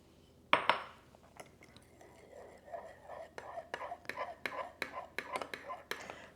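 Dry ingredients for protein donuts are stirred in a bowl, producing a quiet series of rhythmic scrapes and light clinks of utensil against the bowl. A sharp knock opens the sequence, and soft whispery noise sits in the background.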